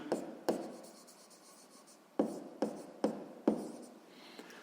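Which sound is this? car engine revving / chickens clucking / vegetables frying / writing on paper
writing on paper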